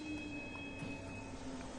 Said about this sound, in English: Okay, train is now arriving.